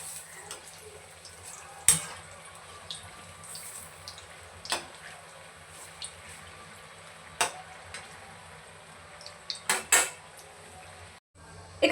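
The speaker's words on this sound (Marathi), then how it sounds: "दुसऱ्या बाजूनी पलटवून घ्यायचे आहेत गोल्डन ब्राऊन होईपर्यंत." Vada pav potato vadas frying in a pan of oil as they are flipped, with a low background sizzle broken by a few sharp, close clinks of a utensil against the pan.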